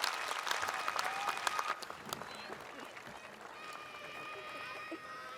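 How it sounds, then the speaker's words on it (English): Audience applause at a university graduation ceremony, loud at first with sharp individual claps and cheers, then thinning to softer scattered clapping as a voice or two breaks through. "So now let's give a nice big applause to Rahab Shwaib."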